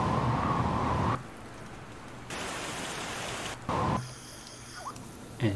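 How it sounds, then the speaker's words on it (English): Rain ambience plays from a game audio engine as a steady broadband hiss, cutting and switching between louder and quieter environment loops, with no voices. "Listen for the rain or nighttime jungle sound"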